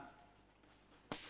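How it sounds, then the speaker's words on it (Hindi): Marker or chalk writing on a board during a chemistry lecture, a quiet scratchy stroke sequence ending in a sharp louder scrape near the end, close and alone. "वो मैं यहां लिखता हूं"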